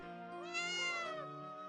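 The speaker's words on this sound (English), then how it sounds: "Why do you keep meowing?" A cat meows in the video game To My Darling, a single drawn-out, rising-then-falling meow heard close and clear over a steady musical background.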